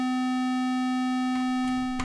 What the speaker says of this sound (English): Self-oscillation of a distortion unit.